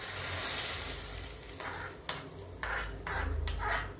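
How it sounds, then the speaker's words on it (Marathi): Hot ghee tempering with cumin is poured into kokum saar, giving brief sizzling bursts mixed with metal spoon and pan clinks and stirring, close and fairly quiet with no talk. "आता ह्याच्यावरती फोडणी घालून घ्यायची."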